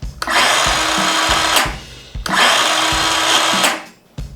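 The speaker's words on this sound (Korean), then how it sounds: "메탈 커팅소는 더 저속으로 돌긴 하지만 더 강한 힘으로 금속을" A DeWALT DCS-373 metal-cutting saw runs in two long bursts, a heavy, low, steady whine with a gritty edge, cutting off briefly between runs.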